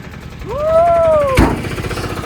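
A tempo truck engine straining while stuck on a rough, potholed road: a close, loud rising whine that holds, then a sharp knock or jolt, with choppy engine rattle carrying on after.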